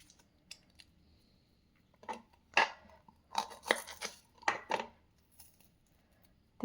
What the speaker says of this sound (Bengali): তাই ছোট ছোট পেঁয়াজ কাটা একটা কাজ আর কি, ছোট ছোট তো অনেকগুলো কাটতে হয়